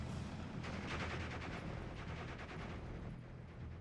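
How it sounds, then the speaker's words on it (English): Dense rifle fire in a World War II strategy game as army infantry engage Fallschirmjäger paratroopers, a steady crackle of overlapping shots and bursts at mid-distance over a constant battle rumble. "Army rifles engaging Fallschirmjägers."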